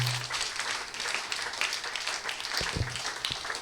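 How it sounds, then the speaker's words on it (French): A church congregation at a Sunday worship service claps in praise, a moderately loud spread of hands clapping with a few sharper individual claps near the end. "On nous applaudit bon Dieu avec un clap"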